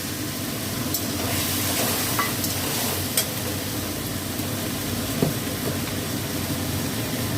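Chickpeas sauté with sugar, turmeric, ginger and green chilli in a pan for a pumpkin dish. A steady close sizzle runs throughout, with occasional faint clicks of a spoon.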